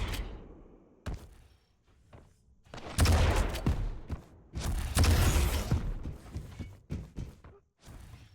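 Rockets in the Quake Champions arena shooter go off in a flurry, with sharp blasts near 1 and 3 seconds, then a longer run of loud, overlapping explosions and impacts before things quiet toward the end.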